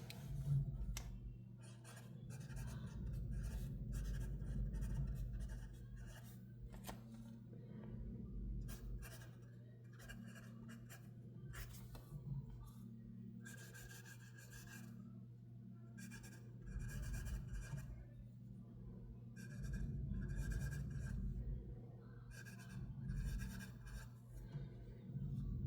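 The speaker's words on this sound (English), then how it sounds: "You see, you can write different angles with this nib" A Montblanc fountain pen with a bespoke nib writes on Kokuyo paper, faint scratchy strokes coming in short bursts with pauses between them, close up over a low steady hum, no voices.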